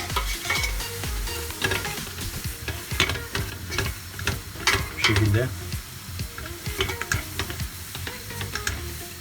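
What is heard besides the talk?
flour being stirred and roasted in pan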